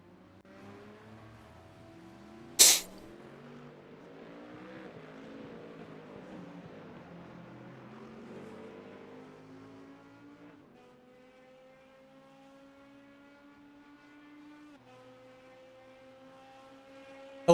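Porsche race cars in the iRacing game hum along with steady, tonal engine drones that rise and shift pitch, plus one sharp click near the start. Quiet and continuous, with no talking.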